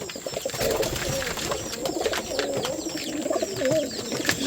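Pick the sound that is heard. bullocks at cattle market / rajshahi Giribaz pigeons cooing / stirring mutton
rajshahi Giribaz pigeons cooing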